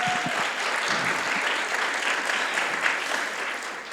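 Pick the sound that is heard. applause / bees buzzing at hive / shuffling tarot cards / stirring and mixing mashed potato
applause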